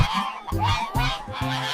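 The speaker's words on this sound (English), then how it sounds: "G for goose. Goose." A goose honks in a run of four loud, nasal calls at a steady rhythm, close and clear with no talk over it.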